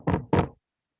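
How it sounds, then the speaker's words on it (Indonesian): Two firm knocks rap on a door in quick succession, close and loud, followed by silence, with no voices. "Yoga pernah mendengar suara ketukan pintu seperti ini?"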